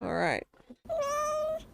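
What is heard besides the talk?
pet cat meowing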